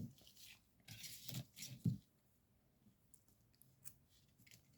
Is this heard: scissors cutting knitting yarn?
yes